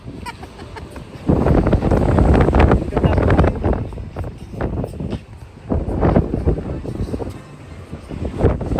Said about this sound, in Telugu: గాలి మాత్రం ఇక్కడ గలగలలాడిపోతున్నాయి